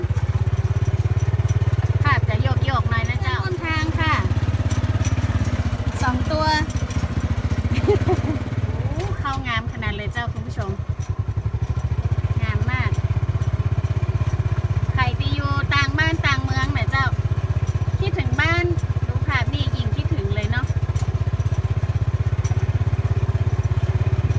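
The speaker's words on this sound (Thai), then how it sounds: "นั่งรถเครื่องพ่วงค่ะ" A motorcycle pulls a passenger trailer through rice fields, its engine droning steadily and loudly throughout while someone talks over it.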